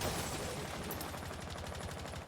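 Rapid gunfire from an esports match in a competitive shooter, a dense continuous barrage of shots crackling steadily throughout without any voices.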